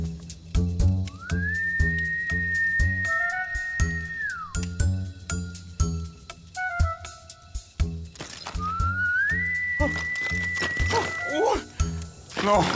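Ghostly whistling of El Silbón in a telenovela, two long rising and sustained whistled tones mixed with rattling, jingling bone sounds and music.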